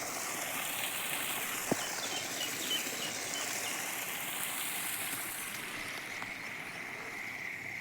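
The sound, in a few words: rainwater flowing from the road through a drain into a field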